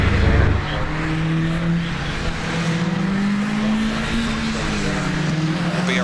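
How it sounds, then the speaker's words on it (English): Caterham race cars idle and rev on track at Cadwell Park ahead of a championship finals race, steady loud engine drone with rising pitch, continuous throughout with no talk. "You can hear the engines rise."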